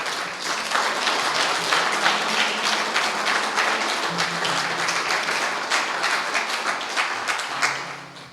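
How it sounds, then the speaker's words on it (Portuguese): Church congregation claps for Jesus after a prayer in a Portuguese-language sermon, sustained crowd applause with sharp individual claps standing out, holding steady before tapering slightly at the end. "Você pode aplaudir Jesus?"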